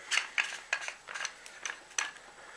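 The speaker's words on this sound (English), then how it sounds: "magazine tube screws back in here" Metal clicks and scraping as a Mossberg 500 shotgun's magazine tube is screwed back into the receiver, a close, quiet series of irregular ticks and ratcheting taps.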